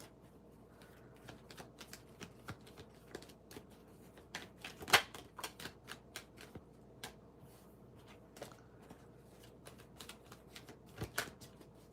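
Tarot cards are shuffled by hand during a live tarot reading, giving a run of soft, irregular riffling clicks and taps with one sharper snap, close and fairly quiet, with no talking.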